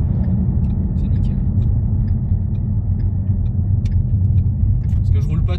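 A car with a 5.0-litre V8 engine hums in a low, steady, muffled rumble while cruising, heard from inside the cabin as people talk.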